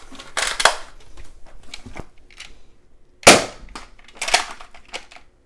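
X Shot Reflex 6 toy blaster fired through a chronograph, with several sharp snapping shots in irregular succession and quiet mechanical handling between them, close and alone.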